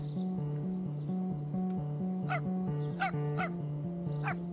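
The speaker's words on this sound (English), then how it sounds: "Dog says, gotta go give her a present." A cartoon dog in the video game Dropsy barks repeatedly in a bouncy, rhythmic pattern of short yips over a looping game melody, with a few sharper bark bursts near the end.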